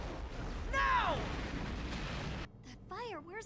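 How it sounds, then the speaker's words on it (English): Ship cannon fire in the Gurren Lagann anime booms loudly under a rumbling, noisy stretch, and then a quieter section follows with warbling, rising and falling voice-like sounds. "Ship cannon fire!"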